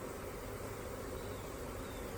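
Honeybees buzz softly while a nuc is hived into a 10-frame medium hive, a faint steady hum heard close by with no voices.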